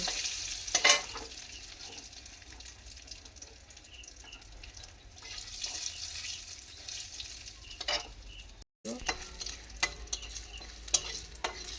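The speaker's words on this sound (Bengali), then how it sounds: "চিচিঙে ভাজবো শুকনো লঙ্কা আর জিরে আর কালো জিরে" Snake gourd frying in a pan with dry red chilli, cumin and nigella seeds in a home kitchen: a steady, moderately loud sizzle with stirring and scraping throughout, briefly cut off near the end.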